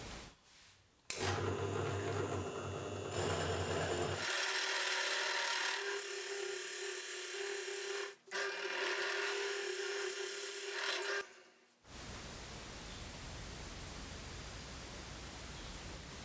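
A 50 mm diameter drill bit boring into clamped scrap wood, a steady loud rasping grind that changes tone partway through and cuts off abruptly, leaving a faint hiss behind.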